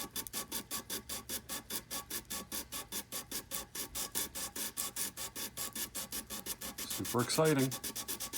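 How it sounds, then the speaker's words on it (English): Rhythmic back-and-forth sanding of a Graph Tech Tusq XL guitar nut for a Fender Stratocaster, steady close scratchy strokes repeating about five per second, with a short spoken remark near the end. "I am just going to take this and sand it back and forth for a little bit"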